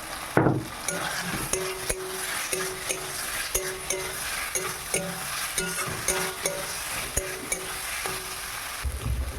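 Prawns and jackfruit frying in a pan, a steady sizzle under regular metallic clinks and scrapes of a spatula stirring, close and fairly loud.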